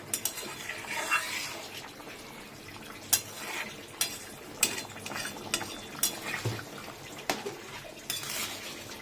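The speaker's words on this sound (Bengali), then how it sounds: "এবার একটুখানি ভালো করে নেড়ে দেবো, নেড়ে তারপরে ভালো করে ফুটে উঠলেই বন্ধ করে দেবো।" A spoon stirs and scrapes through a pot of hot soup just seasoned with ground black pepper, giving intermittent close metallic clinks and knocks against the pot over a soft steady background, with no talk.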